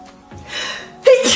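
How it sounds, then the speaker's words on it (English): A person sneezes once, close and loud: a short breathy intake builds up, then a sharp burst with a brief voiced squeak, caused by dusty crochet swimsuits. "All of these swimsuits are really dusty. It's like making me sneeze."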